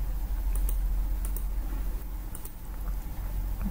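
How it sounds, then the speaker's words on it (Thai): A computer keyboard and mouse on a Windows 10 PC, with the Ctrl key held while images are clicked to select them: light, scattered clicks and taps over a steady low hum, close by, with no talking. "ให้เรากดคีย์บอร์ดคอนโทรลค้างไว้แล้วก็เลือกรูปที่ต้องการ"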